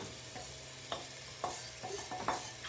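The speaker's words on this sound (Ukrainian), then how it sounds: "Далі наливаємо олійки, додаємо нарізану кільцями цибульку та натерту моркву." Sliced onion rings and grated carrot frying in oil, with a steady close sizzle broken by several scraping stirs of a utensil through the pan.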